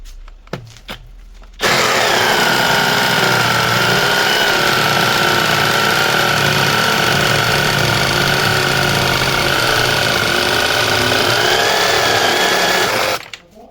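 A LEADER Ultra BL20-22M cordless reciprocating saw cutting through thick wood, a loud, steady buzzing drone that starts abruptly after a few knocks and runs continuously for about twelve seconds before stopping.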